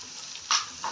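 Whole cumin seeds and green chillies frying in oil in a chicken karahi pan, a soft steady sizzle with a brief louder hiss burst midway and another small flare at the end, no talking.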